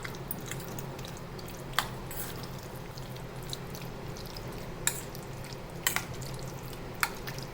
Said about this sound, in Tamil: எல்லா பக்கமும் மசாலா படுற மாதிரி நல்லா மிக்ஸ் பண்ணி வச்சிடணும்.